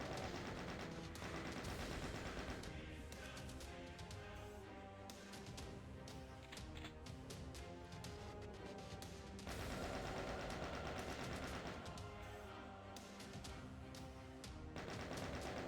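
Steady, dense gunfire in the Doom video game on a final level, a continuous stream of rapid shots running without pause and staying fairly faint throughout, with no voices over it.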